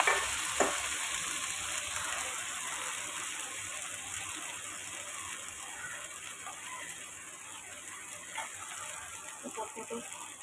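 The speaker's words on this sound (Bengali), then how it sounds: "গরম তেলে দিয়ে দেবো বেশ কিছুটা কালো জিরে ফোড়নে দিয়ে দেবো সব" Black cumin seeds sizzle in hot oil while being tempered, a steady, bright frying hiss that runs evenly and fairly close, with a few faint stirring clicks.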